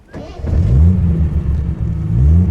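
A 1970 Triumph TR6 engine cranks briefly and catches, then settles into a loud, low rumbling idle with rising and falling revs, heard close up.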